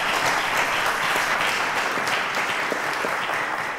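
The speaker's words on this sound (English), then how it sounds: "A round of applause to them." Studio audience applauding contestants on a televised quiz show, a steady, dense wash of clapping that holds evenly throughout at close, full volume.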